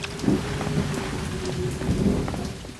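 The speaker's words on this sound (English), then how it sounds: "with all the goddamn lightning and rain" Video game rain and thunder: steady rain hisses beneath low rumbles of thunder that roll in twice, all fairly quiet and continuous.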